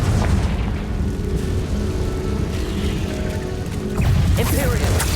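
A Confringo blasting spell explodes in the video game Hogwarts Legacy, a loud, dense booming rumble that fills the scene continuously, with a fresh blast surging near the end amid mechanical clatter.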